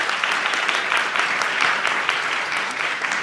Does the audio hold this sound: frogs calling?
no